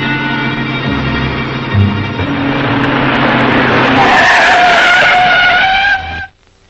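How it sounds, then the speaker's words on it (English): A vintage serial car chase after a truck loaded with dynamite, with tires skidding and squealing loudly for several seconds over a revving engine, rising to a high screech before cutting off abruptly. "We were chasing the truck."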